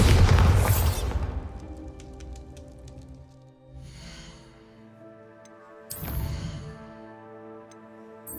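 Bombarda spell blasts in Hogwarts Legacy hit as loud, booming explosions: one heavy burst at the start and a second a few seconds later, with lingering crackle and ringing tones between.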